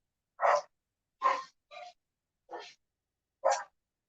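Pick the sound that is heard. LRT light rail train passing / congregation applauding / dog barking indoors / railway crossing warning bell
dog barking indoors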